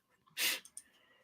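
A single faint sneeze from a man on a podcast call, a short breathy burst with a small trailing catch, fairly quiet against a hushed background.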